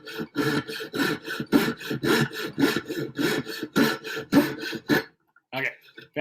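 A handsaw makes a curved cut through wood for a chair gusset, rough rhythmic rasping strokes close by that stop abruptly, followed by a brief scrape.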